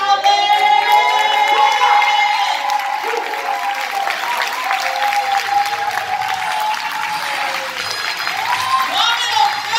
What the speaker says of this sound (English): But we applaud you, Reverend Wendy Howland.